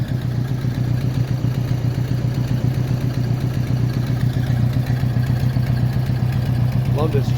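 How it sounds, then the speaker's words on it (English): A Ford 8N tractor engine runs steadily nearby, a loud, even low chugging throb with a faint clattering rhythm that continues unbroken throughout. "Love this tractor."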